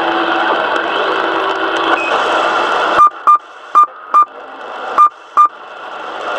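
Radio hiss and static cut off, then a series of six short, sharp roger beeps from a CRT 6900 CB radio sound in an uneven rhythm, loud and close, each followed by brief quiet.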